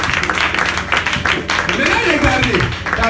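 A church congregation claps and cheers during a sermon, a crowded wash of hands and raised voices, loud and continuous, with a voice rising over it midway.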